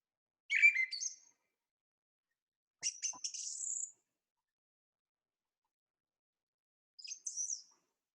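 A thrush sings alone in three separate bursts spaced several seconds apart, each a short run of bright, clear whistled notes repeating a similar phrase against complete silence.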